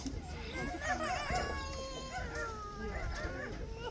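A parrot at a safari park's parrot aviary mimics a dog's bark, producing warbling, voice-like barks and whines that run continuously over busy background chatter.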